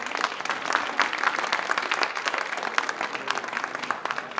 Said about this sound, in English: Can you please clap?